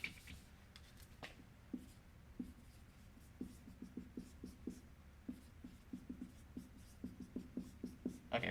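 Chalk or marker scratching across a board in short, irregular strokes and taps, close and fairly quiet, picking up into a quicker rhythm toward the end with no talking.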